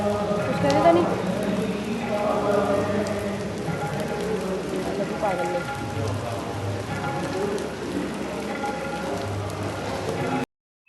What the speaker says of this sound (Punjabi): ਬਾਰਿਸ਼ ਪੈ ਰਹੀ ਹੈ ਤੇ ਆਪਾਂ ਛੱਤਾ ਲੈ ਲਿਆ ਸੀਗਾ